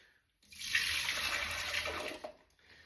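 Washing-up water runs steadily from a tap into a slow cooker bowl, a continuous close hiss and splash lasting about two seconds before tapering off, with no talk.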